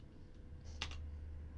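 Keys click quietly on a computer keyboard, with a faint tap or two and then a sharper cluster of clicks near the middle over a low background hum.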